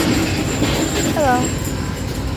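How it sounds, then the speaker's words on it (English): An Amtrak train rumbles steadily at a station, a loud continuous low roar with a brief squealing wheel tone rising over it. "So we'll just be here waiting for the train to leave."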